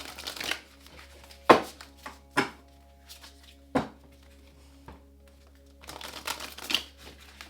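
Tarot cards shuffled by hand in a quiet room, a run of crisp riffling bursts and soft taps spread across the stretch, with a faint steady hum beneath.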